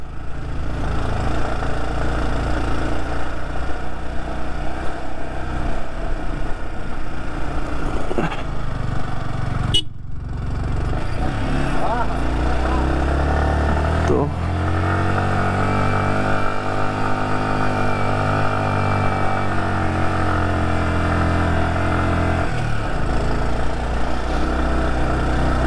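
Motorcycle engine labouring up a very steep mountain track, revving and straining continuously at close range, with a brief drop at about ten seconds before the engine note climbs again; horn-like tonal whine throughout.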